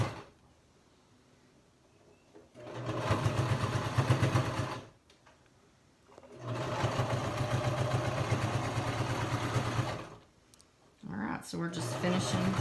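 A sewing machine stitches a fitted fabric mask in two sustained runs of steady motor hum and needle clatter, separated by short pauses, with more handling noise near the end.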